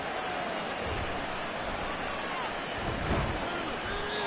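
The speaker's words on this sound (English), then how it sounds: "The rain set to continue as we are underway in the second half" Steady rain falls on a Buccaneers at Steelers football video game, an even hiss that covers the whole stretch, with faint voices underneath.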